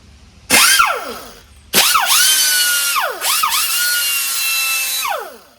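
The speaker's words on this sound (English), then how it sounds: "This is an air grinder. See if it works." A pneumatic air grinder running off a VEVOR 6.3-gallon 1450W oil-free air compressor lets out a loud, close high-pitched whine. It spins up and dips several times in sweeping pitch swoops before winding down, with no talking.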